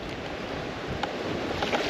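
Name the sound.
choppy water with big rollers and wind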